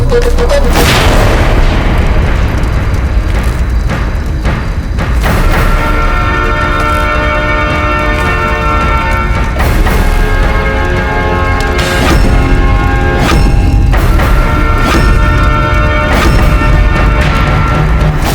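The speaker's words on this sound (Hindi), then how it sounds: "अकबर के अपने खेमे में इतना बड़ा धमाका" Loud, repeated booms and crashing blasts of an explosion sound effect, from a Hindi historical TV drama set in an army camp. The rumbling detonations rise and fall continuously without talk.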